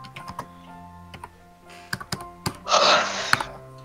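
Someone taps away at a computer keyboard during a Minecraft play session, with scattered keystrokes and one louder burst of clatter near the end, close by and over a low steady hum.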